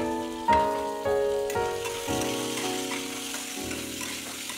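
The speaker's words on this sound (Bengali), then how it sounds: "আলু আর ছোলাটা এবার ভাজা ভাজা হয়ে এসছে" Potatoes and chickpeas fry in oil in a wok with a steady, close sizzle and occasional stirring scrapes, continuous throughout with no talking.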